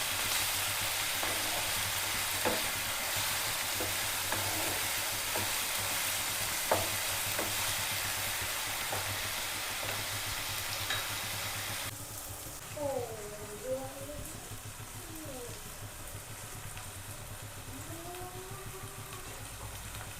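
Ginger garlic paste stirred into frying onions for South Indian tomato rice gives a constant close sizzle with occasional utensil taps. Partway through, the frying fades and a voice and soft talk come up.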